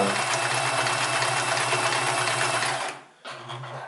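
A Sears Kenmore 158 series sewing machine runs a reverse-stitching back-and-forth pattern, a loud, steady, close mechanical whir that cuts out briefly near the end and then resumes.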